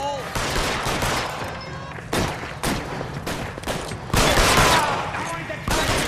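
Police shootout gunfire in the L.A. Noire game: loud, sustained volleys of rapid shots and heavy bursts, overlapping continuously for several seconds.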